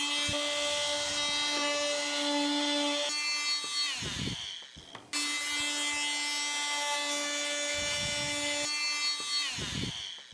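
A powered cutting machine with a toothed blade runs along a ruler, slicing through carpet on a board. A loud tonal whine sounds in two long passes, each ending in a grinding drop, with a brief gap between them.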